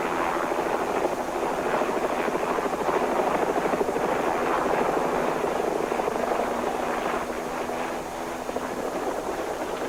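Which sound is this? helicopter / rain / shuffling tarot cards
helicopter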